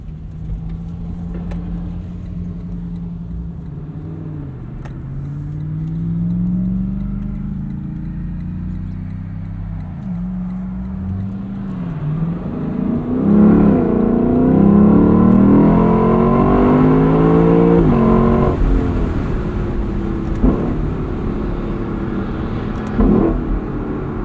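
A Lexus LC 500 Convertible's V8 engine rumbles at idle on a cold start, then its exhaust swells and revs with a deep, throaty roar, loud and close, settling back to a burbling idle.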